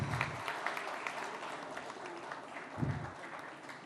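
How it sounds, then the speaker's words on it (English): Audience applause at a coffee industry conference session, a steady crowd clapping with a few louder close claps standing out, moderately loud and continuous throughout. "a big round of applause."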